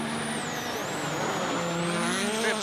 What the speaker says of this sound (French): voici donc la Hyundai avec Hänninen sur le même secteur